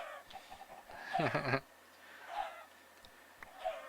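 Chickens clucking in a Minecraft mob farm, several short game clucks with one louder burst near the middle and softer ones after, over a quiet background.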